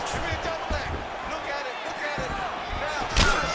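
Leg kicks landing in the UFC 5 video game as a fighter bout plays out, dull thuds amid crowd noise and commentary, with one sharper, louder impact near the end.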